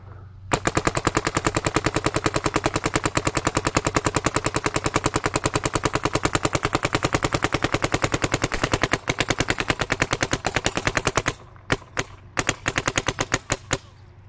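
Paintball marker fed by an older Spire hopper fires rapid, steady strings of shots for over ten seconds, loud and close, then breaks into a few shorter bursts and single pops near the end, testing aging paint for jams.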